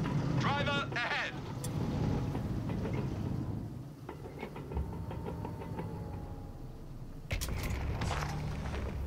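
A Panzer IV tank rumbles and clanks as it drives off in the strategy game Company of Heroes 3, its engine a steady low drone broken by metallic bursts, with brief voice lines over the start.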